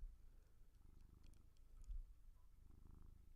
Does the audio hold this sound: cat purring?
yes